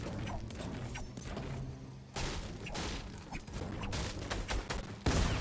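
Bursts of gunfire ring out in a Fortnite Battle Royale firefight, rapid volleys of shots with impacts and mechanical clicks, fairly faint, coming in clusters separated by brief gaps.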